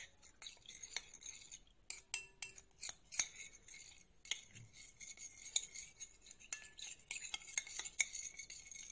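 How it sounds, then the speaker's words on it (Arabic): A spoon stirs starch into water in a glass or cup, giving quick repeated clinks and scrapes against the sides, close and fairly quiet with short pauses between bursts. "واقلبهم في بعض لحد ما النشا يدوب خالص."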